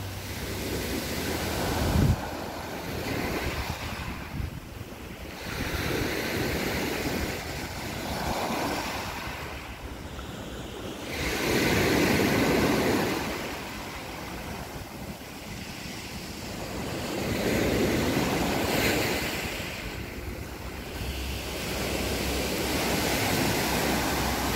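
Mediterranean Sea waves roll onto the shore at Antibes, France, a steady broadband wash of surf that swells and recedes every few seconds, with wind buffeting the microphone and no voices.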